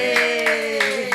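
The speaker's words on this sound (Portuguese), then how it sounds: "Palmas pra Isaac." Hands clap in applause during a podcast wrap-up, a brief steady patter of claps lasting about a second over a sustained tonal hum.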